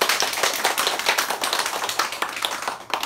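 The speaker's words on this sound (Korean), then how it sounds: "박수 한번 또 쳐요" Brisk audience clapping at a Korean talk, many hands striking in a lively, fairly even patter that holds steady throughout without speech.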